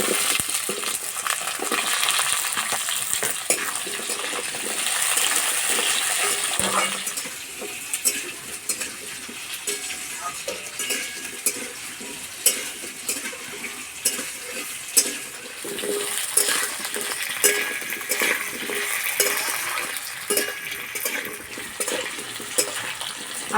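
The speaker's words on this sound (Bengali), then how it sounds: "আলু হালকা করে একটু ভেজে নিয়েছি।" Potato pieces fry steadily in hot oil seasoned with bay leaf, dried red chilli and five-spice for a Bengali shukto, with a spoon scraping and stirring the pan in frequent clicks over a constant close sizzle.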